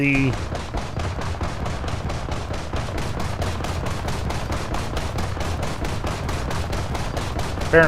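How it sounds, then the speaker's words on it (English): Ship ancillary guns fire in War Thunder as a steady, rapid rhythmic stream of automatic shots that runs unbroken for about eight seconds, loud and close, with someone talking over it. "ancillary guns are doing a quite good job of taking care of anything that's close enough for me to shoot at with this"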